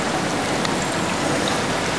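Water running steadily in the waterfall feature of an opal statue, a constant close hiss of splashing with no pauses and no voices.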